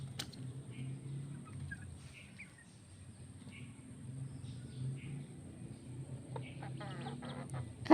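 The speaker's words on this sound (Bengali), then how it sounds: "এই তো দেশি অরিজিনাল বাড়ির পোষা দেশি মুরগি" Native desi hens and their chicks cluck and murmur softly around a farmyard, with occasional sharper calls and a faint steady hum in the background.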